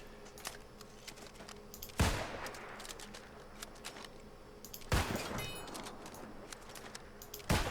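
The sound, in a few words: musket firing in New World video game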